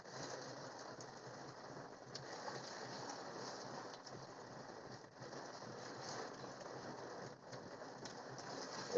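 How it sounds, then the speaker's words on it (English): Heavy torrential rain pours down steadily during a severe storm, a dense continuous hiss of drops hitting surfaces at close range, with no talking. "Raining because it's coming down so hard."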